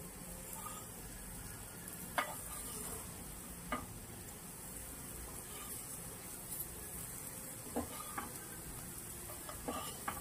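Brinjal slices sautéing in shallow oil in a pan for a Konkani breakfast, a faint low sizzle with occasional soft scrapes and taps of a spatula against the pan.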